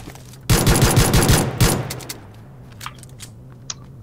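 Celebratory gunfire at a wedding: a rapid automatic burst of about a dozen close, loud shots over roughly a second, followed by scattered fainter pops and background noise.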